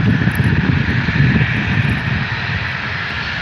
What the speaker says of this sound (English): Then we got Jetstar A320 CEO rolling out with the winglets.